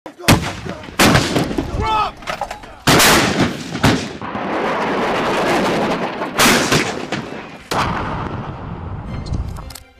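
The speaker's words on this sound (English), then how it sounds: "Depending on atmospheric conditions, the sound of explosions may be amplified and heard up to 50 miles away." Loud, booming explosions from military training go off one after another, some sharp and some rolling, with a rumbling background between blasts.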